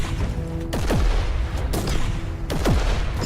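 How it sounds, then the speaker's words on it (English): Explosive shots and an exploding container in Warhammer 40,000: Inquisitor, three loud booming blasts spaced about a second apart, each with a descending whistling tail, over a continuous rumbling battle din. "taking the explosive shots there, taking some of these guys down. And the container there exploded"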